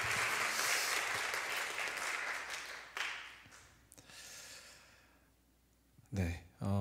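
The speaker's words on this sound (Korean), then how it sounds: "하나님께 영광의 박수 올려드리겠습니다." Loud church audience applause at a Korean worship concert fills the first few seconds, then fades into scattered claps and quieter murmuring before a voice begins speaking near the end.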